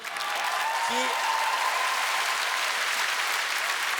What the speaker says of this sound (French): Bonne main d'applaudissements de P.A.